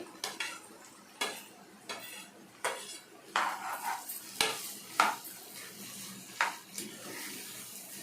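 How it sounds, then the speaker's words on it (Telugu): Ridge gourd pieces tip into a pan and get stirred, giving a series of distinct clinks and scrapes of a utensil against metal about once a second over a soft background sizzle. "తర్వాత వచ్చి బీరకాయ ముక్కలు వేసుకుంటున్నానండి"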